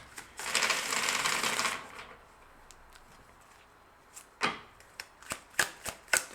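Tarot cards are shuffled in a brisk riffling burst, followed by several sharp, separate snaps and taps as the cards are squared up and set down.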